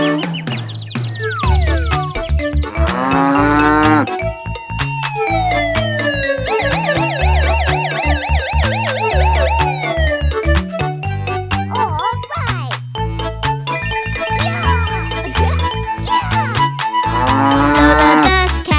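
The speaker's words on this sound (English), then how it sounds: "And Lola goes moo." A cow moos among a lively children's song with animal puppets: repeated, drawn-out lowing calls set against bright melody, bouncy rhythm and backing music throughout.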